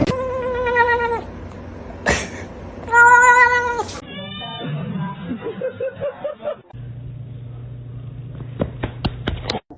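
A cat shut inside a kennel meows and caterwauls repeatedly, loud and close, with drawn-out, wavering cries, while other noises and a brief bit of background chatter turn up between the calls.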